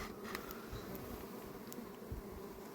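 Bees buzzing as they feed on dripped pine honey near hives in Muğla, a continuous soft drone with individual insects flying close by, no voices present.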